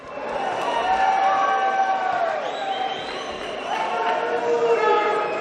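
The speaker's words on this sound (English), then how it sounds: "let's give these warriors a big round of applause" A boxing crowd cheers and applauds the fighters, a steady roar of many voices and clapping with whistle-like tones rising and falling across the whole stretch.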